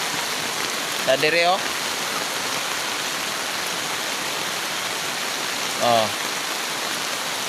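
Heavy rain pours down steadily around a house in a flooding area, a dense, loud, unbroken hiss throughout, with a person briefly speaking twice over it.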